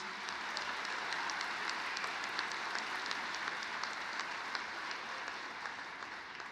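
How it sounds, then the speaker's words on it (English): At the inauguration of Ohio Northern University's president, an audience applauds the symphonic band with soft, distant, sustained clapping that holds at an even level throughout. "Could we give the Symphonic Band and Grant one more round of applause?"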